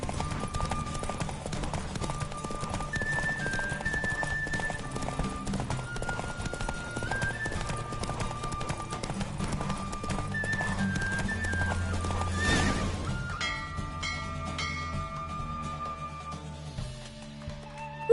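A horse gallops in a race in The Witcher 3, its rapid hoofbeats pounding steadily over a game music score, with a whinny and the pace easing toward the end.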